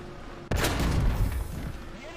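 A sudden loud blast bursts in within War Thunder, followed by a rolling, rumbling explosion with crackling debris that keeps booming for a couple of seconds.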